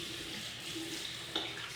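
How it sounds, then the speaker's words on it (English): Tap water runs steadily into a sink while hands are rinsed before a shave, a constant close hiss with a brief splash near the end. "Wash my hands off so the blade doesn't slip out of my hands"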